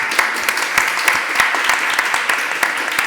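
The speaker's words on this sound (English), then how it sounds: "just another round of applause quickly for our amazing moderator, Chris, for his amazing questions." Audience applause at the close of a panel discussion on digital ecosystems, dense steady clapping from a crowd with sharper individual claps standing out, held at an even level for the whole stretch.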